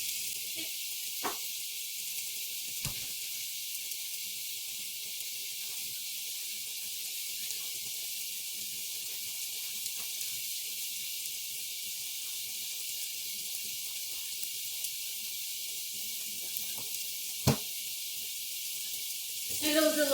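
Steak sears in a pan with a steady, broad hiss and sizzle that runs throughout, broken by a few sharp clicks and knocks and a brief clatter near the end; no one speaks.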